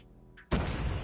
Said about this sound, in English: Just aimlessly throw nades